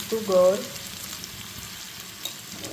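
Tomatoes and potatoes frying in a pan for a farali jeera aloo sukhi bhaji, a steady close sizzle with a brief tonal clink at the start, then even crackling throughout.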